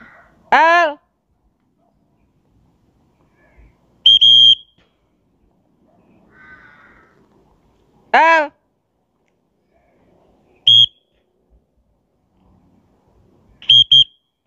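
Distant crow calls sound outdoors near houses, harsh caws repeated in short bursts several seconds apart against a quiet background.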